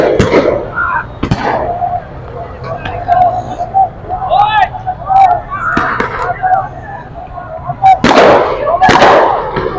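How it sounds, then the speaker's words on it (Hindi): Sharp gunshot cracks during a street clash near D-Chowk in Islamabad, a few loud reports at the start and end over a crowd's hubbub and shouting voices. "अचानक से यहाँ पर फायरिंग भी की गई है"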